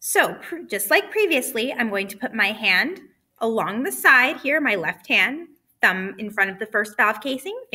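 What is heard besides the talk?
No distinct noise like a dog, phone or traffic.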